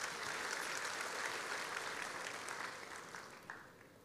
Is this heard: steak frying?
no